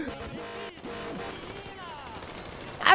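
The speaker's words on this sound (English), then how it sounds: "I'm shooting! I don't know what I'm shooting at!" Rapid gunfire in Grand Theft Auto, a burst of repeated shots rattling for a few seconds with a louder crack at the end, loud and close, with no talk over it.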